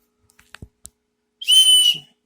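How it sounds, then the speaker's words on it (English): A cheap dollar-store survival whistle, part of a kit with flint, striker and compass, gives one shrill, loud blast of about half a second after a few small handling clicks. "And the whistle works."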